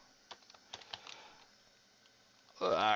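Scattered keystrokes on a computer keyboard, a few light irregular clicks spaced out over quiet room tone, followed by a sudden loud broadband burst of noise at the end.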